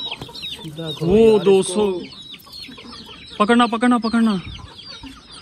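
Old Aseel breeder hens clucking and squawking in two agitated bursts close by, with someone speaking briefly between them.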